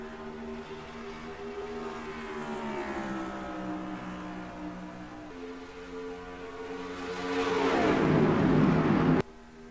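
A pack of trucks roars off the green flag at Homestead-Miami in the NR2003 racing game, engines droning and rising in pitch, then surging into a loud full-throttle howl that cuts off abruptly near the end.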